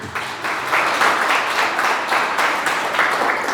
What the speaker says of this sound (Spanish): Dale un aplauso a Jesús por eso.